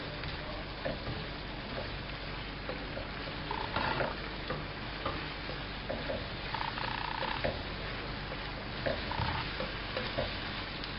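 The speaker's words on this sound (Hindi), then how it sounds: "अच्छी तरह इसको मसालों के साथ कीमे को ऑयल में भूनेंगे।" Minced meat frying with spices in oil gives a continuous low sizzle, with intermittent scraping and tapping as it is stirred around the pan, heard close and without any talk.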